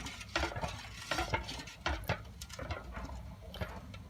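Raw salt stirred into water in a bucket, heard as continuous close scraping and sloshing with irregular gritty swishes and knocks, no talking.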